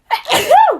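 A single sharp sneeze, loud and close, with a quick intake and a forceful burst that trails off in under a second.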